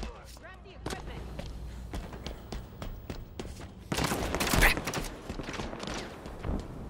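Gunfire in the Halo Infinite video game: a string of sharp, separate shots cracks out in quick bursts, growing louder and denser toward the middle, with voices heard in places.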